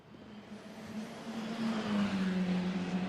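A GT2 race car at the Barcelona circuit drones steadily from mid-distance, its engine note rising and swelling louder over a few seconds with no voices.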